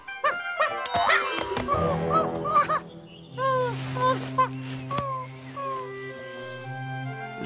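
A cartoon dog barks and whimpers in short yips and whines amid a busy soundtrack with musical tones, some close and loud, others higher and plaintive.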